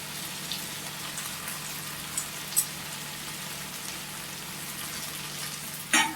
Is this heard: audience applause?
no